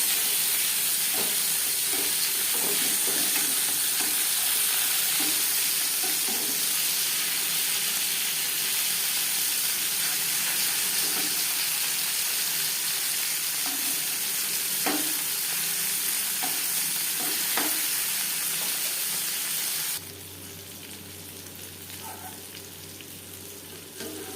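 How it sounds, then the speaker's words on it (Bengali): Loud, continuous sizzling and hissing of bata fish frying in oil, close up, with scattered scrapes and clicks of stirring; the sound drops abruptly near the end. "তাই আমি একবারেই মাছ ভেজে নিলাম"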